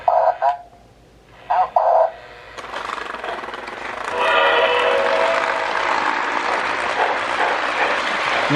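A Lionel model train sounds tender, under repair, plays a few short whistle-like blasts and then a sustained rushing locomotive sound, fairly close and steady, with no talk.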